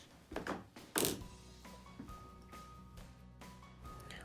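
A toy catapult thumps as it launches its ammo, giving two sharp nearby knocks and then fainter clatters and small bumps trailing off.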